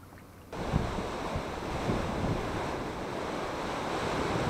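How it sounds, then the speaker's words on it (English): Strong wind blowing by a lake near London, Ontario, a loud continuous rushing roar with gusty buffeting against the microphone that starts abruptly and holds steady. "Look at that wind!"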